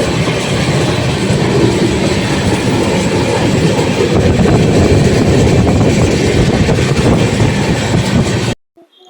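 Loud, close, continuous rumble and rhythmic clatter of a train running on the Kolkata to Mumbai line through Maharashtra, steady throughout before cutting off abruptly at the end.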